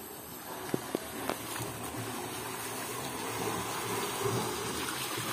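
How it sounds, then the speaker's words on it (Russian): Water rushes steadily through a jungle water channel in Batu Ferringhi, Penang, Malaysia, in a constant gushing flow, with a few faint knocks early on and no speech. "Это такая прокачка воды идет, что ли?"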